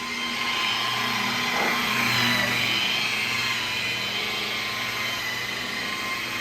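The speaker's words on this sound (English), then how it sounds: "Now all I gotta do is undrill these rivets right here" A power drill runs steadily, drilling out rivets on a car body or frame being readied for sanding and painting during a BMW 330ci LS-swap drift build; a loud, continuous whine holds throughout without breaks.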